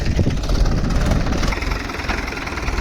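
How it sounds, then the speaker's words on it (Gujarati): A heavy diesel tractor engine runs steadily close by on a cumin-sowing farm, a low throbbing chug with a regular pulsing rhythm and no voices. "આમ જો નગાભાઈનું ટ્રેક્ટર ચાલુ થઈ ગયું છે"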